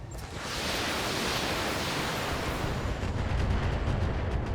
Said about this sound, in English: And we fire with the javelin